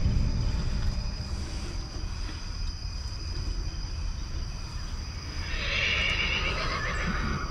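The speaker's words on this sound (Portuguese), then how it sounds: "Cavalo agonizando." A horse at night whinnies and neighs in distress, the calls rising over a steady low rumble of wind and hooves, loud and fairly near, with no talking.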